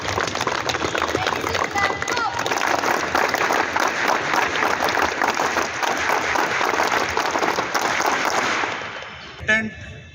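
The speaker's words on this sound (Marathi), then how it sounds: "सर्वांनी थोडंसं टाळ्या वाजवून" Sustained applause from an audience at a college Republic Day celebration, a dense roar of clapping for about nine seconds that then fades out as a voice resumes.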